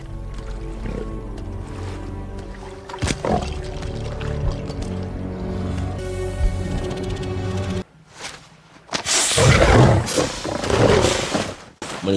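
A lion roars in a film about lions attacking hunters; loud, rough bursts come over a dense film soundtrack, with the harshest noisy stretch near the end.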